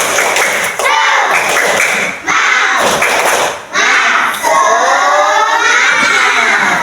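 Schoolchildren in a classroom repeat the tepuk semangat chant, loud unison shouts broken by sharp rhythmic clapping and thuds in several short phrases with brief pauses between.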